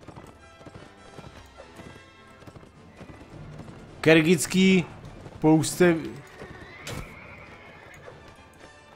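Horse hooves clip-clop steadily in the Mount & Blade video game, and two loud, close neighs break through around the middle of the clip; someone talks over the hoofbeats at times.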